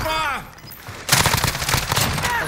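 A burst of rapid gunfire in a battle-royale video game erupts loud and close halfway through, rattling continuously after a quieter start with faint tones.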